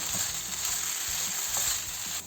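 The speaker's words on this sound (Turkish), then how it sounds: "Patatesleri 5 dakika kısık ocakta kavuralım." Grated potatoes frying over low heat with garlic in a pan, a steady close hiss with faint scraping and stirring clicks throughout.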